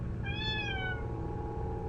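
A house cat meows once, a clear rising-then-falling whine lasting under a second, close and distinct over a low background hum.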